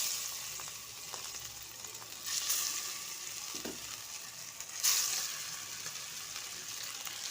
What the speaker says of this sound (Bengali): তারপর মাছগুলো দিয়ে দেবো একে একে